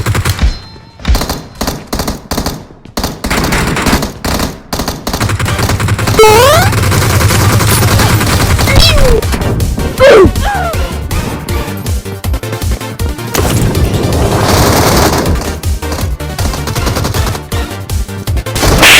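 Gunfire in PUBG played on an iPhone XR, dense bursts of rapid automatic shots and single cracks, loud and close, layered with game effects and music for nearly twenty seconds.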